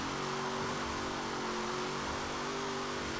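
A Hot Wheels Bone Shaker hot rod on wide race tires in the driving game Forza Horizon 4, its engine droning loud and steady with a held rev under broad road noise and no talking.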